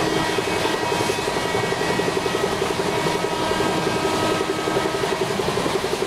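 The diesel engine of a Kolkata–Mumbai Kurla Express locomotive in the Indian Train Simulator game gives off a continuous, evenly pulsing throb that stays steady and moderately loud throughout.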